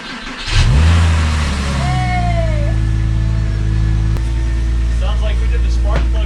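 A Porsche 911 engine, freshly fitted with new spark plugs, cranks briefly and catches, then revs up loudly before settling into a steady, rumbling idle close by.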